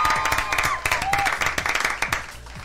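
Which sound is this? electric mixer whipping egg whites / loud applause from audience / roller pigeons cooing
loud applause from audience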